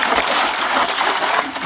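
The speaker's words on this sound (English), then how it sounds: "make sure that I hose down, inside there and just kind of shake it up" Water sloshes and splashes inside a treatment drum as it is hosed down and shaken, a dense, continuous wash of splattering close up with no pauses.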